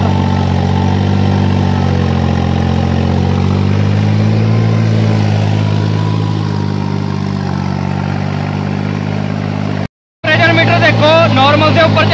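A 3630 tractor engine runs steadily at about 2000 RPM, 300 below its full 2300, with a loud close drone and a brief cut near the end, under someone talking.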